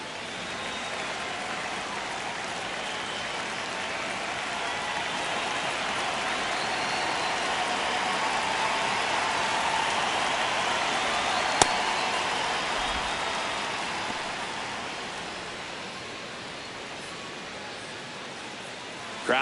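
Crowd noise fills a baseball stadium during a tense ninth inning of a White Sox versus Yankees game, a broad, steady roar that swells slightly midway, with no talk.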